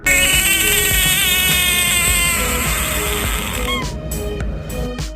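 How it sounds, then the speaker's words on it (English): A Cranwell's horned frog gives a long, loud, continuous droning call that holds for several seconds, then breaks into a few short bursts, close and dominant with no voices. "Top 3 Cranwell Pac-Man."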